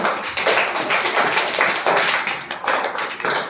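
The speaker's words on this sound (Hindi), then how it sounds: "तो नैना के लिए तालियां" Children clapping in a primary school classroom, a dense, steady patter of many small hands sustained throughout with slight surges, no talking over it.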